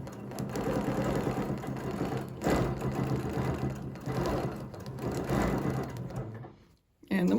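A sewing machine runs steadily while stitching a snowflake design, its rapid mechanical whir continuing for about six seconds with slight pulses before stopping abruptly near the end.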